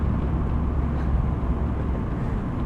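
A 2023 Mazda MX-5 Miata Grand Touring cruises along a country road, giving a steady, fairly quiet low rumble of engine and road noise with no voices.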